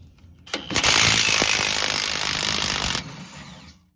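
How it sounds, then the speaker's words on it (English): An impact wrench removes the bottom shock bolt on a Chevrolet Silverado 1500, one loud rapid hammering burst lasting about two and a half seconds up close, then stopping abruptly. "I'm gonna go ahead and put my socket on this side, impact wrench on this side"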